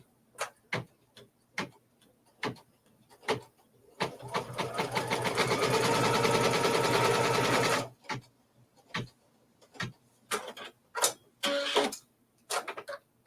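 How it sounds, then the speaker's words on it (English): A sewing machine stitches quilt fabric, running in one steady, fast whirring burst of several seconds, surrounded by sharp clicks and handling taps from the fabric work. "Stitch it down. And it's going to stitch right along the outside edge of"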